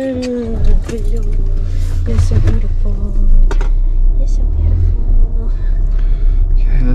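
A car driving along, its low engine rumble and road noise continuous and close throughout while people talk inside.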